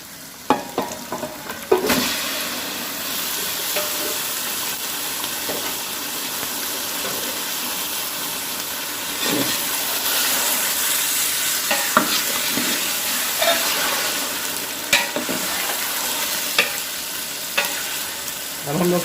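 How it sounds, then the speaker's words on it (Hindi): Five kilos of chicken frying in a large pan for restaurant-style chicken pulao, with a steady, loud sizzle and crackle throughout, broken by repeated clatters of stirring. "अब हम लोग चिकन को फ्राई करेंगे।"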